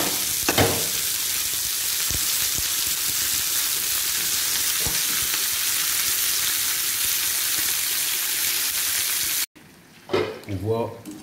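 Young coquelets cooking in a pan give a steady, loud frying sizzle with a few stirring clicks, then cut off abruptly near the end as a voice speaks briefly.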